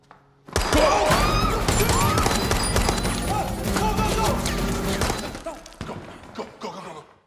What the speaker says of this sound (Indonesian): mereka berhasil ditemukan oleh cohorts dan adu baku tembak pun terjadi